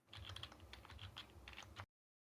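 Rapid, busy typing on a computer keyboard during a Codenames game stream, with quick clustered key clicks and clacks close to the microphone, fairly quiet overall and ending abruptly.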